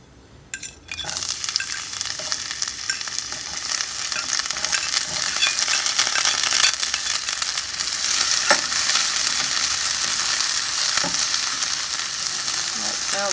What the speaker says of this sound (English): I'm going to put the onion and potato in first and then the garlic in